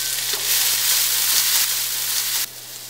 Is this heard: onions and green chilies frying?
yes